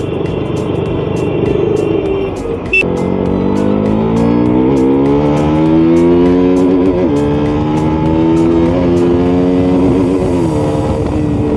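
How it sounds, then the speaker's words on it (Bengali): A KTM RC motorcycle engine runs close by, a loud continuous throaty drone whose pitch slowly rises and falls as the throttle is worked, with a brief sharp click early on and no talking. "এর সাউন্ডটা মনে হচ্ছে প্রপার একদম KTM-এর সাউন্ড একদম মনে হচ্ছে।"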